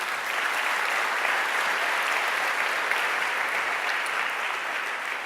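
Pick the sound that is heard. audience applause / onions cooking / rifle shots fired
audience applause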